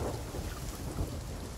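Thunderstorm at sea in the pirate game Sea of Thieves, a continuous low rumble of thunder and heavy rain with wash against the ship, dense and steady with no voices.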